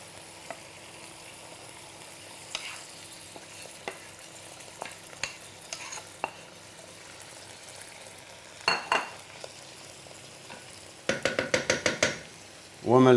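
Mung beans dropped into a pot of frying goat meat, a few quiet clinks and scrapes followed by a burst of rattling and sizzling near the end.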